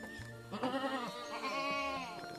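A Jawa Randu buck goat bleats in a pen, giving two long, close, wavering bleats back to back over quiet farmyard background.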